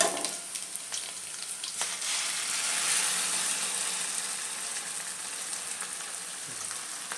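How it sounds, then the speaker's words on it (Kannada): Ground chili paste hitting hot oil in a tempering pan for village-style sprouted horse gram sambar, giving a bright, continuous sizzle with light scraping stir clicks, steady and close, with no talk. "ಒಗ್ಗರಣೆ ಒಳಗಡೆ ನಾವು ಖಾರ ಹಾಕಿದ್ದೀವಿ"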